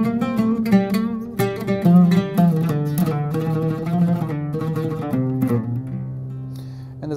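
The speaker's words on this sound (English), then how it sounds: "The oud in the Middle East is predominantly used for melody in what they call modes or" An oud plays a Middle Eastern maqam melody, fast plucked notes with quick ornaments and tremolo-like runs over low resonant strings, close and solo with no talking.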